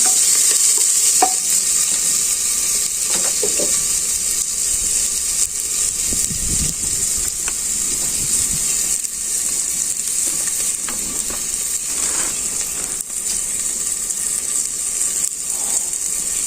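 Pork meat frying in a little hot oil over a village-style clay chuloo, a steady, loud sizzle with intermittent stirring scrapes throughout and no talking.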